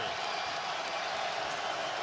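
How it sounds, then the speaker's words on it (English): Basketball arena crowd at a Rutgers versus Seton Hall college game roaring steadily as a dense, continuous wall of cheering, loud and sustained throughout without a break. "Listen to this crowd now."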